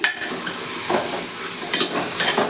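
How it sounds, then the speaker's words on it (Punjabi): A spoon stirs bottle gourd curry masala in an open pressure cooker, with a gentle sizzle under a few quick scraping strokes against the metal, close and moderately loud, with no one speaking. "ਇਹ ਆਪਾਂ ਚੰਗੀ ਤਰ੍ਹਾਂ ਦੇ ਨਾਲ ਮਿਲਾ ਦਵਾਂਗੇ"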